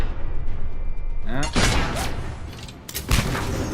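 An explosion and gunfire in Mass Effect 3: a deep boom with a whooshing sweep lands mid-clip, followed by another sharp blast about a second later over a steady bed of battle noise, loud and close.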